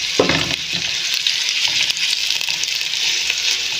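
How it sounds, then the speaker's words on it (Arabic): Minced meat fries in a pan with chili pepper as it is stirred, giving a steady, close sizzle with scraping and clinking stirring sounds near the start. "هقلب كويس لغايه ما لونها يتغير"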